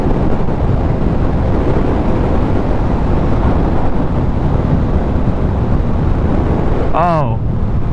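Yamaha XSR900 motorcycle cruising at speed, heard as loud, continuous roaring wind and engine rumble throughout, with a rider's voice briefly cutting in near the end.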